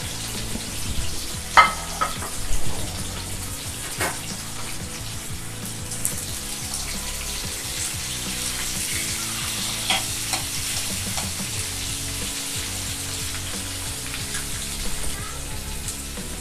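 Five roughly chopped onions fry in a pan while being stirred for a chicken dish, a steady sizzle under repeated scraping and knocking of the spoon against the pan, with no talking.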